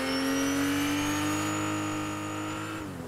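A car in the video game Fortnite drives past with a loud engine tone that rises slightly in pitch, then drops and fades as it moves away near the end.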